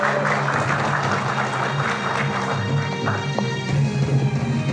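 Studio audience at a televised political talk show applauding, a steady wash of many hands clapping at moderate distance for several seconds with no speech over it.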